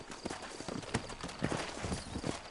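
Horse hooves clip-clop at a steady walking pace in a western frontier video game town, fairly close and moderately loud, with faint background ambience and no clear speech.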